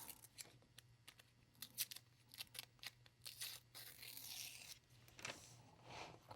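A sheet of paper in a planner being torn, faint dry ripping strokes and crinkles in short uneven bursts, quiet and close, with no one talking.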